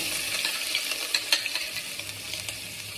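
Garam masala sizzles in a hot pan as egg curry is started, giving a steady close frying hiss with a few soft crackles and stirring scrapes. No voices are heard.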